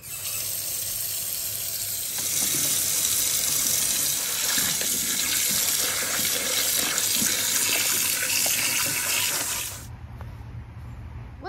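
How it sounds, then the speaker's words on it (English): Water runs steadily from a tap as a cast iron birdbath is washed with soap and water, a continuous splashing hiss lasting most of the stretch before cutting off to quieter background. "all I'm gonna do to prep this is just wash it with some soap and water and get it cleaned off."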